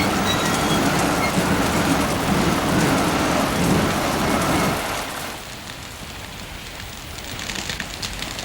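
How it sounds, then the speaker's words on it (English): Steady heavy rain pours down with a dense hiss and a low rumbling undertone, loud for several seconds before easing to a softer patter, with no talk. "It's still raining."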